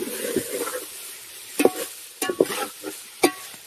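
A ladle stirs chicken curry frying in oil, scraping the pan in several sharp, close strokes over a soft background sizzle, with quiet pauses between the clatters.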